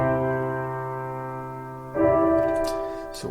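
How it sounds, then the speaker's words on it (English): Fully wet Fruity Reverb 2 in FL Studio with dry signal at zero turns a held synth chord into a soft atmospheric pad, swelling into a second chord with a washy tail, alone. "it'll sound like an atmospheric pad or something which you can use in the background"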